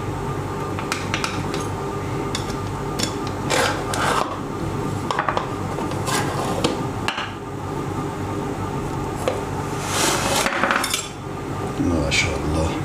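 A homemade pepperoni and sausage pizza is cut and served onto a dish, with close scraping of a cutter or spatula, clinks of utensils against the plate and rustling, continuing throughout.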